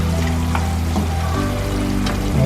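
Pork steak sizzles steadily in a hot pan while it is stirred, a loud continuous frying hiss with soft scraping strokes and no talking.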